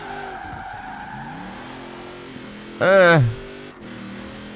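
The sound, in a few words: 1270 horsepower racing van drifting around a corner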